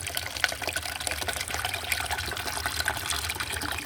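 A tap runs steadily as it is washed down with Surf detergent at a roadside water source, a close, continuous splashing and trickling stream with no voices.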